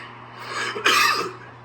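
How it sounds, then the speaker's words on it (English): One harsh, raspy cough, close and fairly loud, rising out of a brief throaty breath. "this is my cough"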